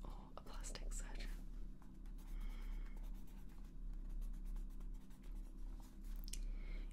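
A pencil writes on paper close to the mic in a soft, continuous scratching of strokes under a constant low hum, with no speech.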